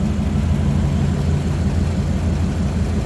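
A 1956 Ford Fairlane Sunliner convertible with a 292 Thunderbird V8 idling, a steady low rumble with even burble, heard close from the engine bay with no other sounds.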